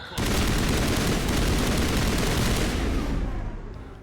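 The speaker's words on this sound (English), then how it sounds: "Started shooting a little too early there, I guess." Sustained rapid gunfire from the video game Mass Effect: a loud, dense burst of continuous shots for over three seconds, then an abrupt stop and fade.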